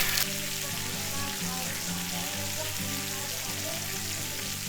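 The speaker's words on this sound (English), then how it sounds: "While it's still hot, let's take those eggs and cook it in it." Eggs frying in a hot pan at a camp-style cook of fresh deer steak, a steady close sizzle and crackle running throughout with a low hum underneath, no talking.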